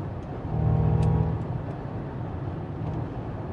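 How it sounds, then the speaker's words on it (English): A Ford Mustang Mach-E electric SUV plays its artificial propulsion sound, a low synthetic engine hum that swells briefly near the start and then settles into a quieter steady drone inside the cabin, with no talking. "it has a propulsion sound, which is just a fake engine noise"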